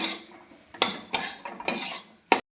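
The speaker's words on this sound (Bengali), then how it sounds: "এবার এটাও খুব ভালো করে মিশিয়ে নেব" Dal puri filling seasoned with cumin and coriander powder is mixed in a pan, giving a few sharp spoon-on-metal clanks and scrapes in an uneven rhythm, close by, with no talk.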